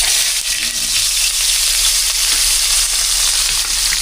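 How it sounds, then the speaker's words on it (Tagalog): Tilapia and milkfish fry in a pan with a loud, continuous oil sizzle and crackle, close up and steady throughout with no talk. "Prito na po natin yung ating mga isda dahil magluto po tayo na ngayon ng sinabawang gulay."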